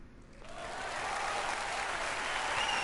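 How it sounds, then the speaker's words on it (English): A big wave of applause rises and swells, many hands clapping steadily, loud and sustained with no voices over it. "There was a huge wave of applause"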